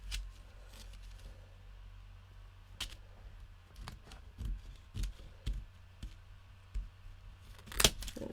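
Scissors trimming card paper for a handmade shaker card, a few faint, close snips and paper handling taps in a quiet room.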